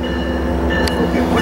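Amtrak train led by locomotive 463 rolling through Fullerton station, a loud, close, continuous rumble of wheels and engine with a brief metallic squeal.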